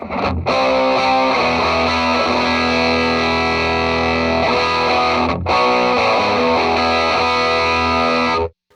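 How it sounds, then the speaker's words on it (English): Electric guitar through a germanium hard-clipping distortion pedal plays thick, saturated chords in two long sustained strums separated by a brief gap, loud and close before cutting off abruptly. "It is like my hard clipping option, and by that I typically mean like distortion."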